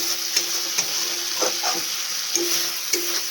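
Spice masala for ghugni frying in oil, a bright steady sizzle punctuated by several sharp stirring clicks of a spoon against the pan.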